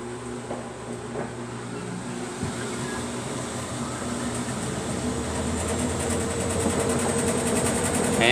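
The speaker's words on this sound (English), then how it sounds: "this is about where the spin cycle I found starts" A repaired washing machine, previously failing to spin, runs its spin cycle: a steady mechanical whir and hum that builds gradually in loudness and pitch, with faint rattles, close by and without talk.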